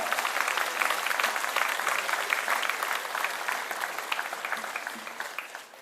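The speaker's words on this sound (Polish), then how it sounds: "Jeszcze raz brawa." Applause fills a hall at an Independence Day gala in Kluczbork as scholarship students are honoured, a dense, even roar of many clapping hands that stays strong throughout and eases slightly at the close.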